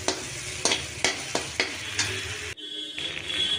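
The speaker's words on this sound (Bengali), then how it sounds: "এরপরও দেখো সব মশলাগুলো ভালো করে কষাতে থাকলাম" Chana masala spices and softened tomato are stirred in a hot pan. A spoon scrapes in several distinct strokes over a steady sizzle, then the stirring stops and a brighter, thinner frying hiss continues alone, close and moderately loud.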